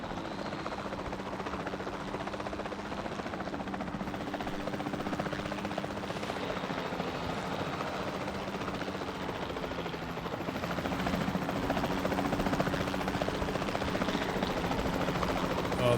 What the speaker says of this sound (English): this helicopter's so annoying